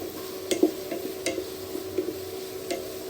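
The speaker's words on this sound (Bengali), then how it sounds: "এই যে তেলের মধ্যে আমি এখন পেঁয়াজ দিয়ে দিলাম, ভালো করে পেঁয়াজ নেড়ে চেড়ে নিব।" Onions stirred and fried in oil for a dried loitta fish curry, a soft sizzle with spatula knocks and scrapes against the pan at an uneven pace.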